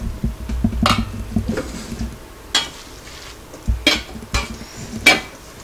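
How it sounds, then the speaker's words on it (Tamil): Leftover rice being mixed with cumin and salt in a pot, a few separate scraping stirs and soft clinks spaced a second or so apart, close and fairly loud against a quiet background, with no talking. "இப்ப நல்லா எல்லாத்தையும் கலந்து விட்டுக்கலாம்"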